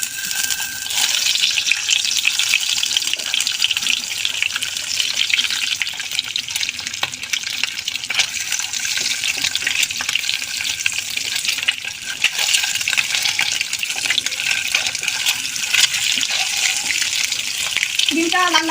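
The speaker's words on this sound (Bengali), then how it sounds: "এরপরে ডিমটা ভেজে নেব।" Eggs coated in turmeric and salt fry in hot oil in a pan, a steady loud sizzle and crackle running continuously throughout with occasional faint scraping.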